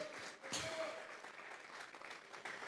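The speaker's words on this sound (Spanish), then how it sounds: "Vamos a regalarle ofrenda de palmas al Dios de la gloria" Church congregation clapping as an offering of applause to God during a Spanish-language sermon, a steady broadband patter of hands with a brief louder burst near the start, somewhat distant and moderately faint.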